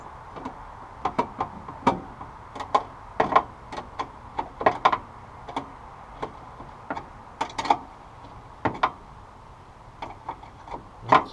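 Ratcheting clicks from a socket wrench with 1/4 inch and 3/8 sockets tightening a bolt while fitting a coolant overflow tank on a 1972 Cutlass, sounding in short irregular bursts of sharp, close clicks.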